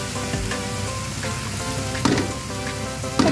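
Shredded cabbage hits a hot pan and sizzles steadily, a close, continuous frying hiss with occasional louder crackles and stirring clatter.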